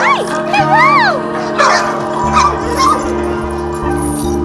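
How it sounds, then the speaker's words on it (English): A litter of puppies whimpers and yips in high, wavering cries close by, with some short overlapping yelps over a steady low hum and rhythmic low thumps. "They're all puppies."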